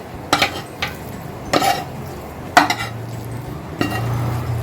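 Cooked coconut barfi mixture, dried down with sugar syrup, being scraped from a pan onto a plate: a few distinct metallic clanks and scrapes spaced apart, with a low steady hum between them.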